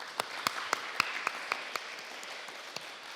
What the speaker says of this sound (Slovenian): aplavz za 5